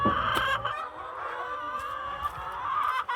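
Young laying hens cluck busily close by in a farm coop, a steady overlapping chorus with no talking.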